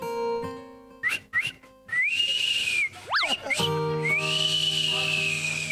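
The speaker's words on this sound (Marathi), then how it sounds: "तुला ही शिट्टी आठवते." A shrill whistle blows several times on a comedy show stage: short blasts, then long sustained tones with a quick rising-falling swoop, loud and close, over a faint musical background.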